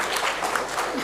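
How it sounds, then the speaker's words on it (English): An audience applauds after a debate, a brief burst of steady clapping with no voices over it. "But a big round of applause one more time."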